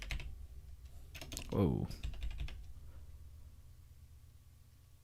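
Computer keyboard typing in short clustered bursts of clicks, close and moderately loud, with a brief voiced exclamation in the middle and quieter keystrokes trailing off afterward.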